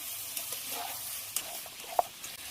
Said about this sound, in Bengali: চিকেনটা আবারও খুব ভালো করে নেড়ে দেবো।